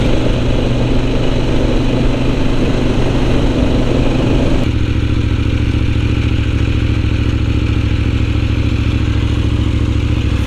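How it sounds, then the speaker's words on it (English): A Kove 800X Pro motorbike's exhaust roars loud and close on a ride through Tibetan Sichuan, a continuous throbbing engine drone that shifts to a steadier, deeper tone partway through. "It doesn't help that the exhaust of this motorbike is fucking loud."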